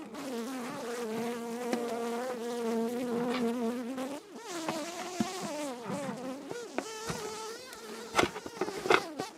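A dense, droning buzz of many honeybees from a tiny colony living in a bird box hums steadily close by, shifting in pitch as the swarm moves around.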